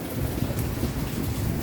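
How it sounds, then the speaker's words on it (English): Steady heavy rain falls outdoors, a dense continuous hiss and patter with a low rumble underneath, close and unbroken throughout. "Yes, it's raining."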